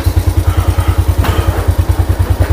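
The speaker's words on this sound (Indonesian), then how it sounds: "dan kita coba nyalakan mesinnya" Suzuki Smash motorcycle engine running close by after being started, a steady, even putter of rapid low pulses at idle with a brief clatter partway through.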